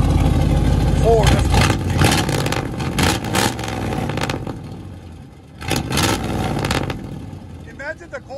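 A 1989 Ford F-250 with a 7.5L V8 gas engine and true dual straight-pipe exhaust barks through several loud, close revs over a rumbling idle, with voices talking in between.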